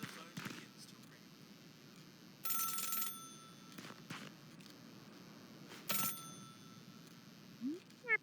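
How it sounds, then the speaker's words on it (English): Telephone at an information kiosk in the video game Celeste rings in short bursts, two clear rings a few seconds apart over a quiet ambient background with soft game sounds. "we have reached the information kiosk, where the phone begins to ring."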